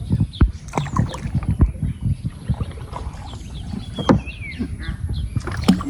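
A rowboat moves along a river canal, with rhythmic splashing and dripping from the oars and paddle, knocks against the hull, and some wind noise. Distant voices and a faint bird call come and go.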